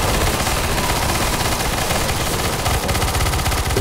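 Continuous rapid automatic gunfire in Counter-Strike: Global Offensive's zombie escape mod on the ze_sandstorm map, dense and loud throughout with no talking.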